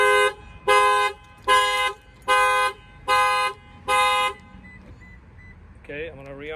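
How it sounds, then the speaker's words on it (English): A 2019 Toyota 4Runner factory car alarm sounds six loud, evenly spaced horn-like blasts, then stops; a voice follows faintly afterward. "bust out a window, the alarm will fire off"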